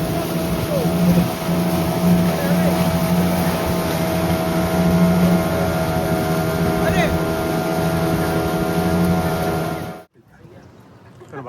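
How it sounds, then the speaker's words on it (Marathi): A motorboat speeds along the sea off the Konkan coast, its engine droning loudly and steadily under rushing wind, then cutting off abruptly near the end. "सुसाट चालली आमची बोट हा जबरदस्त अशी."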